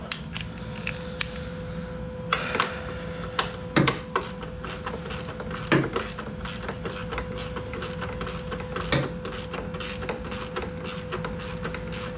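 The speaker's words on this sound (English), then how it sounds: "Pull this back bolt out first." Rear strut bolt being worked loose on a Nissan Versa, with a run of rapid ratchet clicks and intermittent metallic creaks and knocks from the suspension, close and fairly quiet.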